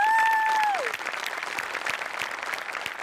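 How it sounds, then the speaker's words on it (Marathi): Warm applause from a comedy show audience for a Marathi sketch performance, steady dense clapping that follows a brief electronic tone at the start and continues evenly to the end. "सगळ्यात आधी अमोल पाटलांसाठी जोरदार टाळ्या."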